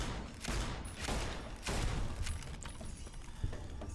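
Repeated gunshots in Fallout: New Vegas, several sharp cracks spaced through the stretch over a busy game background, close and fairly loud.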